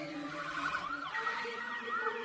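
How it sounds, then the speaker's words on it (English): An ambulance siren wails continuously with rising and falling tones, loud and fairly close, with no voices over it. "The ambulance rushed her to the hospital"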